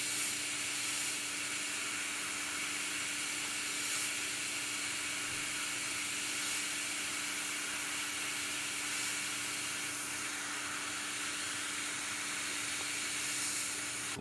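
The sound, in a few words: airbrush spraying paint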